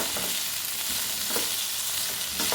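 Okra sautéed in a pan on a low flame sizzles steadily with a constant hiss and soft periodic scrapes as it is stirred, close with no talking.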